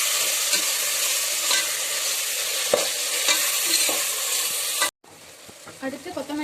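Chopped tomatoes sauté for chicken biryani with ginger-garlic paste, a loud, steady sizzle broken by stirring scrapes and clatters; after a brief gap it resumes a little quieter with crisp bubbling pops.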